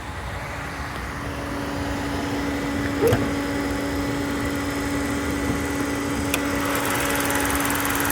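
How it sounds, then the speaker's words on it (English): A 2015 Ford Fiesta engine runs at a steady idle with a constant hum and faint whine, with a couple of brief clicks partway through. "let's listen to the engine sound"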